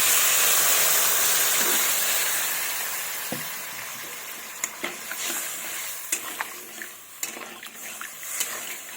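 Water poured into a pan of frying fish curry sets off a loud, broad hiss of sizzling steam that gradually fades, followed by scattered clicks and taps of a utensil.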